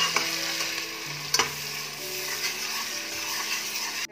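Onions sizzle and crackle steadily in hot oil for chicken biryani, with a couple of sharp scraping stirs of a spoon against the pan near the start.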